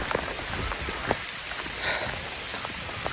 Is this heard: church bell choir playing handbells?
no